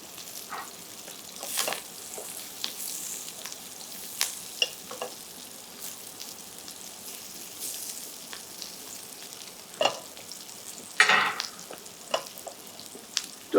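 Thick turnip stems frying in a pan over medium-high heat, a soft, steady sizzle with occasional light scrapes and taps of a utensil, close but quiet, no voices.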